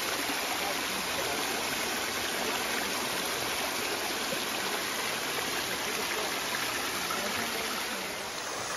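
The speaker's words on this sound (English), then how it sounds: "I wasn't prepared for the trail to turn into a waterfall on our descent from Garfield today" Runoff pours down a steep mountain hiking trail in the White Mountains, turned into a waterfall. It makes a steady, dense, close rushing roar with no pauses throughout.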